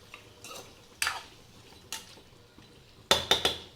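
Salted chicken pieces being stirred with a utensil in a metal pan, giving scattered scraping strokes and clinks, then a quick cluster of three sharper metallic knocks near the end, close up with no talking.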